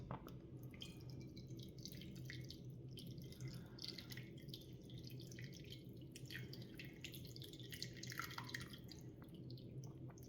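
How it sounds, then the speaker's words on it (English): Ramen broth drips and trickles steadily into a bowl over a low background hum, with no talking. "The next thing is to pour on the broth."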